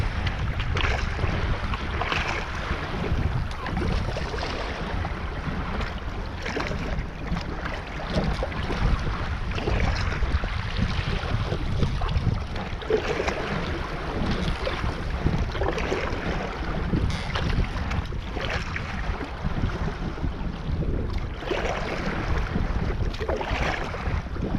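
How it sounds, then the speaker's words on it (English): Wind blows steadily during a pack-rafting trip through the Gaick Pass, with a heavily laden raft on the water: a constant, broad rushing roar with buffeting against the microphone that continues without a break, and no voices. "The wind is definitely not as bad as it was forecast"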